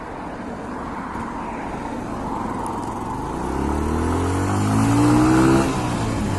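A motorcycle engine runs steadily while riding, a constant loud hum with wind rush that rises as the bike accelerates, its pitch climbing near the end before easing off.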